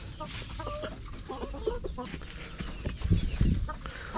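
Dekalb Brown hens clucking close by in their pen, a run of short soft clucks and murmurs followed by a louder burst of cackling near the end.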